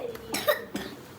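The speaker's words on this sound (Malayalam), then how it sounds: "ചുമക്കണുണ്ടല്ലോ" A man coughs indoors with the TV on, two short rough coughs close by in quick succession.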